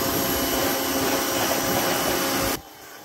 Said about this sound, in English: Now I wanna pressure wash the outside and get it really nice and clean.